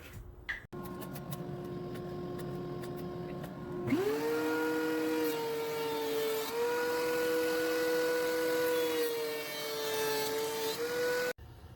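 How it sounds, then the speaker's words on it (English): A thickness planer running end grain wood boards through to make them parallel for a glue-up: a steady tonal machine whine that rises in pitch as the board feeds through, sustained for about ten seconds with a loud, close presence. "I'm just going to run them through the planer just to make sure that they are completely parallel for my glue up"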